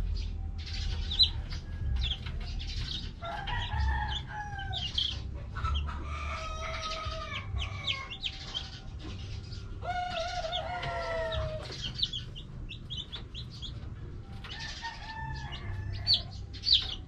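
Rhode Island chickens clucking and calling in a yard, several birds with rising squawks and short crowing-like calls scattered over a low steady background hum, no speech.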